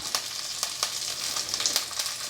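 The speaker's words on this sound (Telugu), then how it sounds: "ఇప్పుడు కరేపాకు పచ్చిమిర్చి అల్లం వెల్లుల్లిపాయ వేస్తున్నా" Curry leaves, green chillies, ginger and garlic crackle and sizzle in hot oil, a steady close frying hiss with sharp spitting pops scattered throughout.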